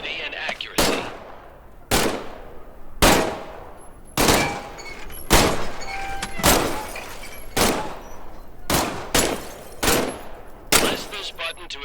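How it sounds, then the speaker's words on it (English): Pistol shots ring out in Medal of Honor VR, about ten sharp, loud single cracks spaced a second or so apart, each with a short echoing decay. "Squeeze the trigger to fire."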